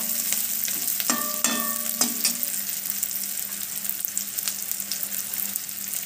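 Sliced onions frying in oil in a pan until translucent for samosa filling, with a continuous close sizzle and a few brief metallic clinks of a utensil against the pan early on, and no talk.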